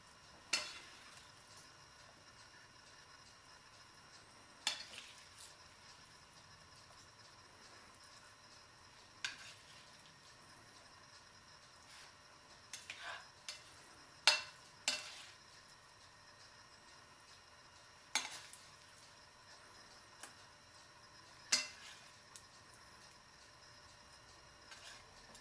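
Vegetables spooned into cooked quinoa for a spinach salad, with a spoon stirring them in: sparse, quiet clinks and scrapes against the bowl at irregular intervals, with no voices.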